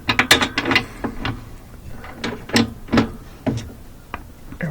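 A ratchet wrench works a 20 mm bolt loose from the frame of a Whirlpool laundry center washer, giving a loud, close series of clicking ratchet strokes in uneven bursts.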